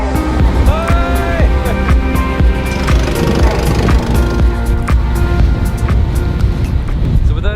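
Boat ride for island hopping off Siargao: loud continuous engine drone and rushing water close by, with clattering and voices mixed in throughout.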